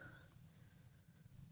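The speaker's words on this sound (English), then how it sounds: "Crickets are obviously not weird" Crickets chirp at night outdoors, a steady high-pitched trill running without pause over a faint low background hum.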